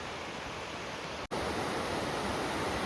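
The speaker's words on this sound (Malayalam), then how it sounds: "ആ പുഴ ഇങ്ങനെ ഒഴുകി വരുന്നുണ്ടോ" A river in a village in Idukki, Kerala, flows past as a steady, full rush of water, broad and constant and fairly close. It is briefly cut off for a split second midway before the rushing resumes.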